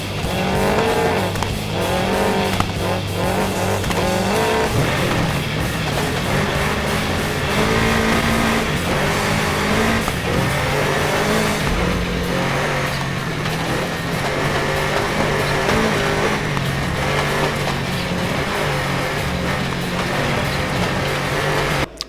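Off-road vehicles race in the video game Gravel, with loud continuous engine roar, revving and tire squeal running steadily throughout the whole stretch without any speech.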